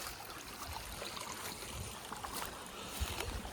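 Canal water released to irrigate village fields flows with a steady, soft rushing and trickling. The sound is continuous and fairly quiet, with no voices.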